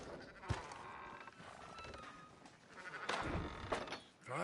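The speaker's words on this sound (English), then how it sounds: "Fine sheep." Sheep bleat at some distance in a farm setting, a few short wavering calls rising over low background noise, with faint rustling and movement between them.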